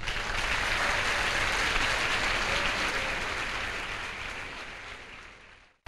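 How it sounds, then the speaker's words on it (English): Sustained applause fills a hall at a school science and maths quiz grand finale, many hands clapping in a dense, even roar that slowly fades and then cuts off abruptly. "Can we applaud ourselves?"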